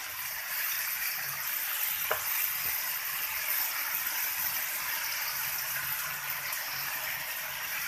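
Okra and potatoes frying in a pan with spices give off a soft, even sizzle and faint stirring scrapes, one brief clink near the start, heard close and fairly quiet with no talk.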